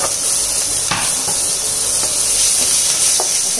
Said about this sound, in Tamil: இப்போ 3 பச்சை மிளகாவை பொடியாக கட் பண்ணி வச்சுருக்கேன், அதை இது கூட சேர்த்துக்கிறேன்.